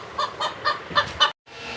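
A rooster clucks five times in a quick, even series, close and clear, then falls silent.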